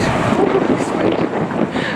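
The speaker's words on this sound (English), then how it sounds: "Come on, let's get out of this wind." Strong wind buffets the microphone with a loud, continuous rumbling roar, gusting unevenly throughout.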